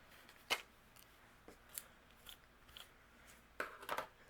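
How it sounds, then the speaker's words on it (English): Scissors trim overhanging paper from a handmade Christmas card, giving a few quiet, sharp snips spaced apart, with a small cluster of cuts near the end. "The excess overhanging we'll go ahead and trim off."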